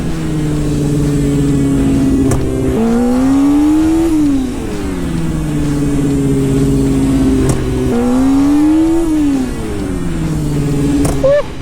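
A Harley-Davidson Sportster engine revs repeatedly while circling in a wheelie, its throttle rising and falling in waves over a steady, loud, close rumble, with no talk.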